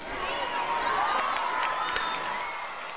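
A crowd of about a thousand fans cheers at a baseball game in Cuba, a bright sustained roar with whoops and claps, steady and fairly close throughout.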